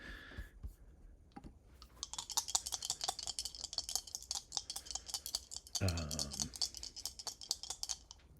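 Dice rolled during an ISS Vanguard board game session, a long run of dense clicking and rattling that clatters on a tabletop for several seconds, with a brief low thump partway through.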